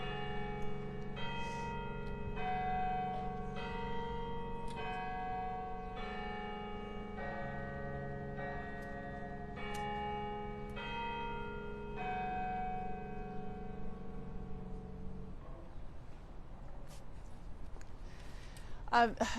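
A church bell chimes near a West Valley police press briefing, a slow even run of about a dozen ringing strikes roughly a second apart, each one left to decay, with faint voices beneath.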